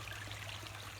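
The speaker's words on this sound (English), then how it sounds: "Hopefully you can hear the flow of the running water behind me." Running water flowing steadily behind a person outdoors, a constant broadband rush and trickle with no breaks and no talking.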